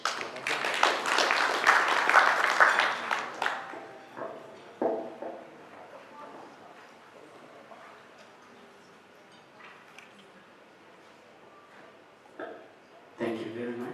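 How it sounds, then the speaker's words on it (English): Audience at a dinner engagement applauds in a dense burst of clapping that fades after a few seconds, leaving scattered claps and faint room murmur before a final short burst. "Tonight we can clap again."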